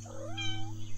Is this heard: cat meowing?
yes